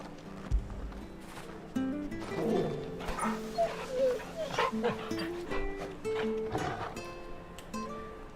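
A dog in the video game Final Fantasy XVI gives scattered barks, yips and whimpers over several seconds, set against a background of game music and effects.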